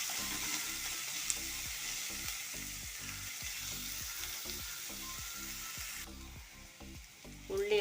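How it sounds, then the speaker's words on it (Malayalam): Chopped onions sauté in a pan for a taro-stem thoran, giving a constant close sizzle broken by regular rhythmic scrapes of a spoon stirring through them, with no one speaking. "അതിൻ്റെ കൂട്ടത്തിൽ നമുക്ക് അരിഞ്ഞു വെച്ചിരിക്കുന്ന ഉള്ളിയും കൂടെ ചേർക്കാം. അതുകൂടെ ചേർത്തൊന്ന് വഴറ്റാം."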